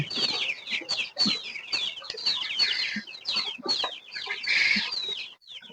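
Young Tiger-breed chickens, about a month and a half old, cluck and peep busily in a farm shed during heavy rain, a dense, continuous chatter of close, high calls with no talking.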